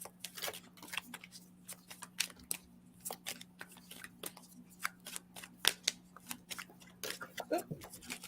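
Tarot cards being shuffled by hand close up: quick, crisp riffling and soft slaps in irregular bursts over a faint steady hum, with no talking.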